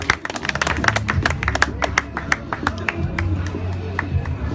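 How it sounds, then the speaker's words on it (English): Audience clapping at an English language club gathering about the Sudan revolution, a run of sharp, irregular claps from a small group over a low room hum, fairly close and steady for several seconds. "Please give him a harsh clap."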